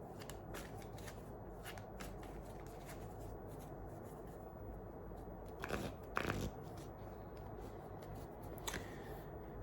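Tarot cards are drawn and shuffled from a deck, a faint papery rustle and a few soft slaps running steadily beneath low background noise.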